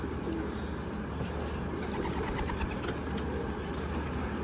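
Homing pigeons coo steadily and close by among other bird calls, making a dense, continuous flock murmur with no pauses.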